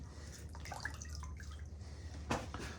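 Water drips and trickles from a damp rag being squeezed out over a gallon bucket of water, a low, steady patter with one brief louder splash near the end.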